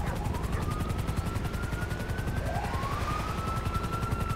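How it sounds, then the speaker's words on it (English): Air ambulance helicopter in the GTA 5 video game, a steady, dense rotor and engine drone filling the scene while a siren wails faintly and rises in the distance. "air ambulance is on the scene."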